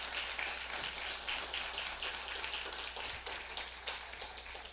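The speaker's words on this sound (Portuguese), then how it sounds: "Dê uma salva de palmas ao nosso Deus" Applause during a church service, a faint, dense patter of many hands clapping continuously, heard from a distance with no voices on top.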